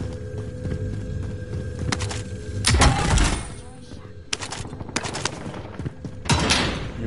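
Shooter video game on PS4 with repeated bursts of rapid gunfire, some loud and close, others farther off, over steady in-game background hum.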